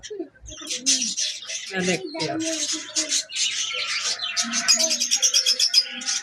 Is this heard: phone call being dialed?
no